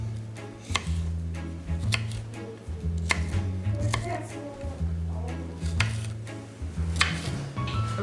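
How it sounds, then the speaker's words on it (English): A knife chops strawberries on a cutting board for chia and oat cups, a steady series of close, crisp thuds in rhythmic bursts with brief pauses between runs. "I'm chopping up the strawberries for the chia and oat cups."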